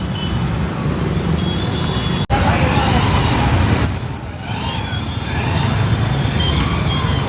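Road traffic jam near a flooded river bridge in Pune: a steady low rumble of idling and creeping engines with occasional short horn tones, fairly close and continuous.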